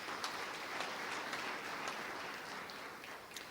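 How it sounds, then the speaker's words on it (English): Scattered, faint audience applause at a construction health and safety seminar, a thin steady patter of hands heard from a distance with no voices on top. "Let's just give them a round of applause,"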